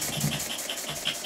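An antique toy model steam engine runs in a basement, a faint, quick rhythmic chugging with soft regular puffs repeating over a low mechanical hum.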